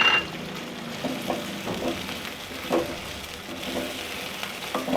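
Chicken sizzles in a pan with chopped garlic and ginger while cooking for biryani, a moderate frying hiss under light stirring and scattered clinks of a utensil against the pan.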